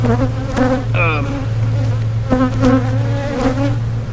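Honey bees buzz loudly and close during a hive inspection of a colony with European foulbrood, a continuous droning hum with a few passing higher-pitched whines as individual bees fly near.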